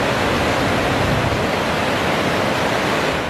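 Roaring water at Ismis lake among snow-covered mountains, a loud, dense, unbroken rush with no pauses or voices.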